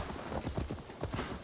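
Horse hooves clip-clop at a steady trotting rhythm in the video game Assassin's Creed Valhalla, a run of close, evenly spaced thuds with no voices over them.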